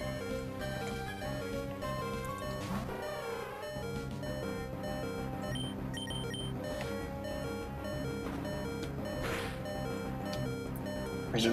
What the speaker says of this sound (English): And again, with the beeping.